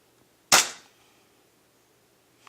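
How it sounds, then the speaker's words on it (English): A single sharp pop from an airsoft 1911 Hi-Capa pistol firing a 0.2 g BB on green gas, with a quick decaying tail, then near silence and a faint click at the end. "we'll be testing with .2s. Green gas, and one hand on the camera and one hand on the gun"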